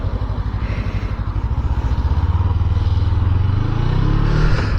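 A BMW adventure motorcycle rides past a busy junction, its engine a steady mid-pitched drone that grows louder and rises slightly in pitch as it nears over about five seconds.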